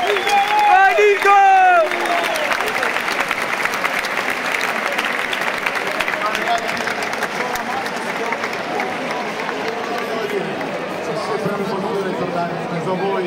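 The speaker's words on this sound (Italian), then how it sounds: "Un applauso a Nicola Pozzi." An ultras crowd at a football fan festival breaks into sustained applause, mixed with cheering and chatter. The clapping holds loud and steady for more than ten seconds after a short burst of amplified speech at the start.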